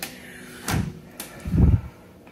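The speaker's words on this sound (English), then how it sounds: "These pull out sideways for extra storage." A storage drawer in a tiny house kitchen slides out with a short rolling scrape and a soft thud as it stops, preceded by a faint click, close and quiet.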